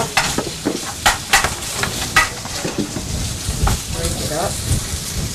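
Italian turkey sausage, casings removed, browns in a hot pan, giving a steady sizzle broken by sharp scraping and stirring clatters as the meat is pushed around, loud and close.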